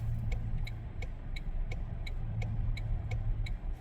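Quiet in-car engine hum while driving around town in Saturday traffic, with a turn signal ticking in a steady, evenly spaced rhythm over the low rumble.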